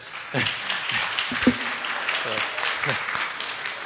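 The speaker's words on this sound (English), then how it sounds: "So can we have a round of applause for him?" Audience applause at a 25th anniversary celebration, a moderate, diffuse patter of clapping that continues for about four seconds with some voices mixed in underneath.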